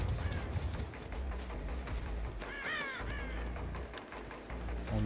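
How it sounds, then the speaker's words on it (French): A crow caws in the horror video game Dead by Daylight, a short burst of harsh calls in the middle over a steady rumbling game ambience, moderately loud and with no talking. "Quel dommage de s'être fait trahir par un corbeau."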